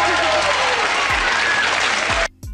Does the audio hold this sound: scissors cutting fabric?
no